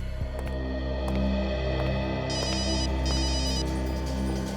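Telephone ringing in a quiet room, a repeated electronic ring in short bursts over a low steady hum, moderately faint and alone.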